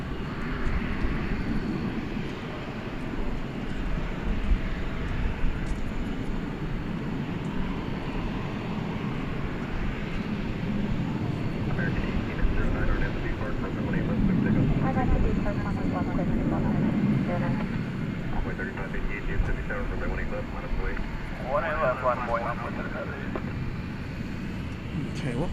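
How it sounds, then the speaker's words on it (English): An Embraer jet takes off at night from DFW Airport bound for Midland, Texas, its engine roar rumbling steadily at a distance, swelling slightly midway, while a person talks over it. "Embraer 117 off to Midland, Texas"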